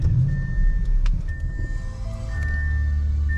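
A 2021 Audi RS6 Avant's engine rumbles low and steady right after a push-button start, with thin electronic chime tones sounding over the idle inside the cabin.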